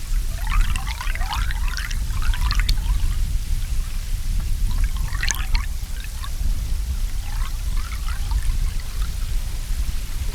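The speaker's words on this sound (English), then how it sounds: "we are hearing the sound of the weir that is a bit low" Water spilling over a low weir in a French medieval city, captured underwater by a hydrophone: a steady low rumble with bursts of bubbling and crackling, continuous and fairly loud throughout.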